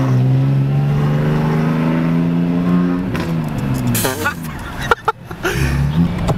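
A BMW E46 325ci engine idles steadily and close by, then blips into a few sharp revs before settling again, with people talking excitedly in the background.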